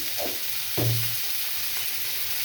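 Green tomato frying in a pan with chili powder and salt, a steady soft sizzle broken by two or three quick spatula scrapes and stirs in the first second.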